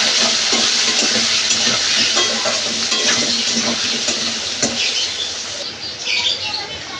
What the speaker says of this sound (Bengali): এখানে তেল গরম হয়েছে, এবার আলুগুলো আমি ভেজে নেব।